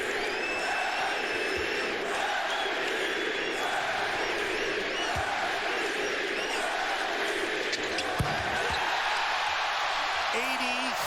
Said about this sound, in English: He will come out of the game and hear it from the crowd.